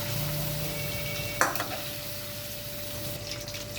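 Paneer pieces fry lightly in hot oil for matar paneer, a steady soft sizzle with a brief clatter of a utensil lifting them partway through, no talking.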